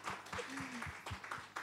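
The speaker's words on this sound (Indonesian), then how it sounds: "Kasih tepuk tangan Bapak Ibu" Applause from a church congregation, a brief scattered patter of hands clapping, fairly faint and a little distant, with a voice briefly audible.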